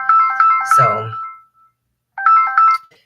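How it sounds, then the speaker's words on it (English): A phone ringtone plays a repeating melodic figure for an incoming call, loud and near, pausing and then starting again, with a short spoken word over the middle of it. "I'm getting a phone call."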